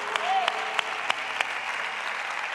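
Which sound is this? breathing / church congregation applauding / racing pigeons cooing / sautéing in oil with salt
church congregation applauding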